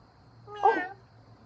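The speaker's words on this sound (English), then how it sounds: "Oh, just a cat." A single short cat meow, fairly close and clear, over a quiet background.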